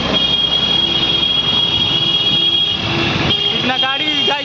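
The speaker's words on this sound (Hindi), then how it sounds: "इतना गाड़ी चल रही है कि आवाज़ हम लोग का सुनाई नहीं दे रहा होगा" Heavy road traffic roars continuously and loudly along a busy street, a dense wash of engine and tyre noise, with voices talking over it toward the end.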